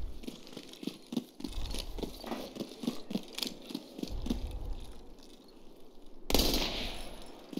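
Rapid bursts of gunfire crackle in uneven volleys, fairly close, with a louder sharp blast near the end, in the video game Escape From Tarkov.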